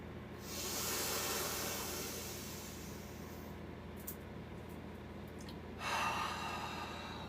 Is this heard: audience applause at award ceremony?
no